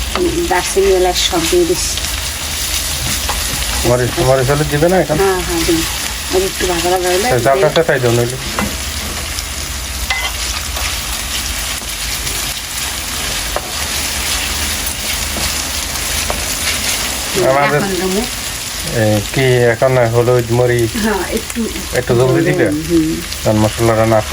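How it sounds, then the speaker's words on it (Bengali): Ginger, garlic and spices fry in a pan for a Bengali chicken pulao, a continuous close sizzle with stirring that carries on while someone talks over it in several stretches. "আদা আদা রসুন দিলাম আর দিবে কি আর এদিকে একটুখানি কষান মশলা দিলাম"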